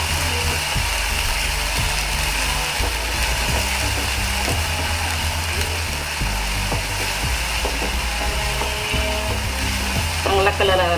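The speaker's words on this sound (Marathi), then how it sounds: "कांद्याची बारीक केलेली पेस्ट आहे ही. चांगला बदामी कलर येईपर्यंत तळून घ्यायचे" Finely ground onion paste frying in a pan for Punjabi chole, a continuous loud sizzle with intermittent scraping stirs and clinks, no talk.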